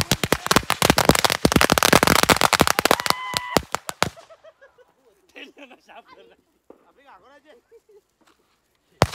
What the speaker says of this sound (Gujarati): હજી થોડા ફટાકડા પડ્યા છે. એ ફોડી નાખો